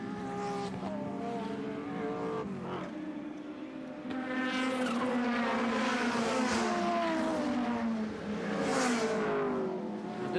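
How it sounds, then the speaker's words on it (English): Touring race cars, a Nissan and a Ford Sierra, racing around the Lakeside circuit in 1989, engines whining and rising in pitch through gear changes as they pass, with faint tire noise and no talk. "We've been following him in the Nissan, battling along here with Greg Hansford in the ANZ Banking Sierra."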